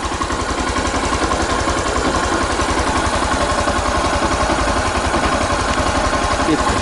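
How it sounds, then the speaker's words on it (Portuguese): A motorcycle engine idling at low revs during a charging-system test with a battery hooked up, a loud, steady, even pulsing putter throughout without any revving. "a moto tá aqui. Tá na marcha lenta"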